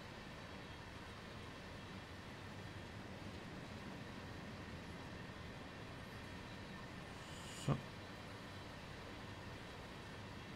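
A train rolls past a station in the Train Sim World 3 simulator, a steady, loud rumble of wheels and carriages that holds evenly throughout, with one brief sharp clank near the end.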